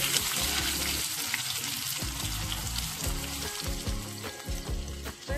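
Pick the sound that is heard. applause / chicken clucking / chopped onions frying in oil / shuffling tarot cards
chopped onions frying in oil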